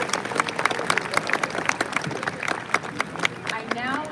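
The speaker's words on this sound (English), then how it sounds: "We give them one more big round of applause." A big round of applause at a university graduation ceremony, dense clapping from a large crowd, continuous and fairly loud, with sharp individual claps standing out.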